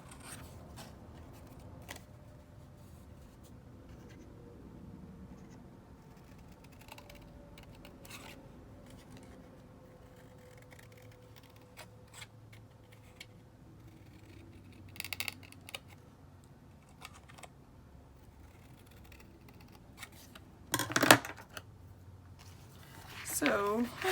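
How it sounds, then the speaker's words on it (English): Scissors snip paper triangles being trimmed for a handmade Mother's Day card: soft, close cutting and rustling over a quiet room, with a few sharper crisp snips near the end. "What I'm going to do is I'm going to trim down these two triangles"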